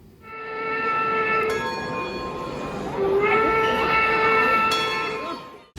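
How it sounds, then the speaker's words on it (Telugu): A button-activated train horn sounds on a miniature train exhibit in a museum, a loud sustained multi-tone blast that shifts pitch midway and cuts off, with faint crowd murmur beneath. "వాటిని ప్రెస్ చేసినప్పుడు ట్రైన్ హార్న్ సౌండ్స్ వస్తూ ఉన్నాయి"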